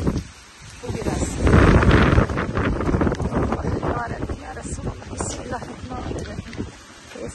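Strong, gusty wind from a violent village storm roars loudly against the microphone, swelling and easing in buffeting waves with rustling in the background.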